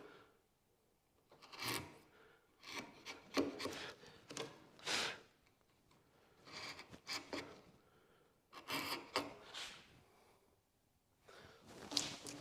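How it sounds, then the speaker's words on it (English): A chisel pares wood along a marked line while a chair is built in a small workshop, giving a series of short, quiet scraping pushes separated by pauses, close by and with no talk. "you insert the chisel into that marked out line and just push through"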